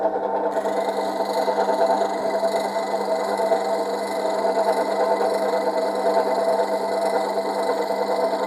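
A bench grinder sharpens a woodturning tool in a Woodcut Tru-Grind jig, a steady tonal whir with stable harmonic hum and faint grinding texture, continuous and unbroken throughout, no voices.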